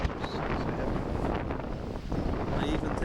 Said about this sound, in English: The wind is just horrendous.